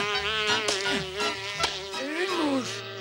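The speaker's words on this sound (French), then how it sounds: "Une mouche." A fly buzzes in a Smurfs cartoon, its thin whine rising and falling as it darts close around, heard among cartoon voices and music.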